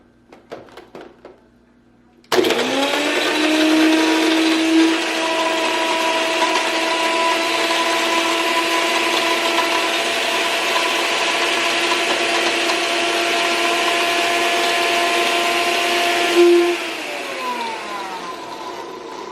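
A countertop blender crushing ice cubes, starting with a few loose rattles before a sudden loud motor roar that holds steady for about fourteen seconds as ice grinds against the blades, then winds down; close and alone, no talking.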